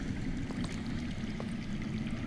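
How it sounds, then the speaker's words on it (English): Underground water flows in a steady, rushing wash with a faint trickling texture, heard alone with no voices in a Game of Thrones Telltale video game scene. "I hear water. From underground."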